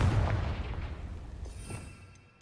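A Confringo spell strikes in Hogwarts Legacy, a loud low boom that bursts up front and then fades over a couple of seconds into a thin magical shimmer.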